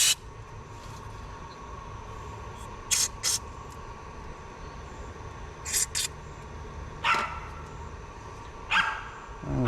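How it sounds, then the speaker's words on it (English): Dogs bark in short bursts at a distance, several separate barks spread across the clip over a steady background hum in a truck repair shop. "it seems like the dogs are being antagonized by the cats this morning"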